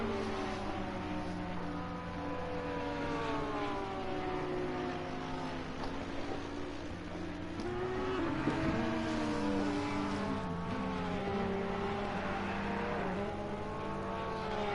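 A Bentley race car's engine drones steadily through a racing video game lap at Kyalami, its pitch rising and falling with gear changes and shifting revs, loud and continuous without any talk.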